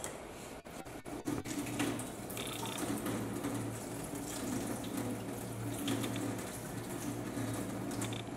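Tap water runs steadily from a faucet into a sink in a chemistry lab during an anion analysis, a continuous close splashing hiss after a few brief clicks at the start, with no talking.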